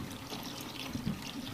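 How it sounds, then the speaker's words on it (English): Water is poured into a bottle while homemade Dettol is being mixed, a soft, steady trickle and splash heard faintly and briefly with no talking. "So you pour the water."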